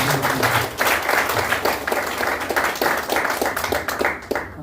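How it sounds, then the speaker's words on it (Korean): Audience at a church monthly gathering applauds in thanks after a sermon, a dense, sustained burst of many hands clapping that carries on steadily before thinning out near the end. "다시 한번 큰 박수로 감사 인사"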